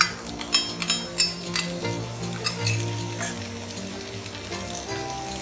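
Chopped onions frying with ginger and garlic paste for kadai bhindi, stirred in a pan: steady close sizzle with scraping stir strokes and a few metallic clinks early on, no talking.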